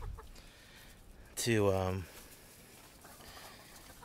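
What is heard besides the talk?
hens clucking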